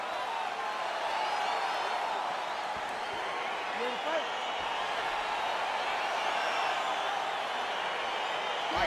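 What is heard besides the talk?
crowd cheering as UFC fight begins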